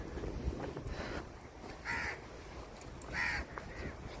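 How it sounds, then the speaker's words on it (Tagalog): Two distinct caws from crows, spaced a second or so apart, over outdoor wind and faint background noise. "Daming uwak."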